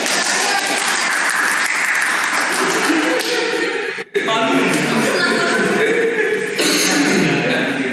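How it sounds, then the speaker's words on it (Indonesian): Audience applause fills a student gathering, steady dense clapping with a brief pause midway, mixed with chatter and light laughter from the crowd. "Tepuk tangan."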